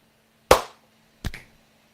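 Two sharp hand claps sound close and alone in a quiet room, about three quarters of a second apart, the first slightly louder, made to sync a recording.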